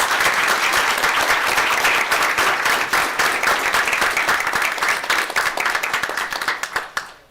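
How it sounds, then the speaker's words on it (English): Dense, loud applause from a school board meeting audience, with steady continuous clapping that holds for several seconds and then tapers into a few final claps. "Let's give her a round of applause."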